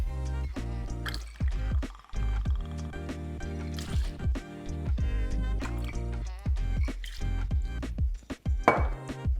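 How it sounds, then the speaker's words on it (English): Gin is poured into a cocktail shaker already holding ice, making close, trickling liquid with irregular drips and small clinks, heard alone and fairly loud. "add 2 ounces of gin"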